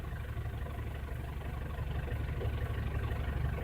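A 2009 Ford Everest engine with a low-power complaint runs steadily during an ECM self-test, a low, even idle rumble that holds close and fairly quiet, rising slightly in the second half, with no talk.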